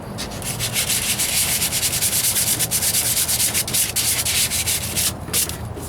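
A sanding block rubs back and forth over Bondo body filler on the driver's side wheel arch of a 1998 Ford Ranger, a loud, close, continuous rasping scrape with quick rhythmic strokes and no talking.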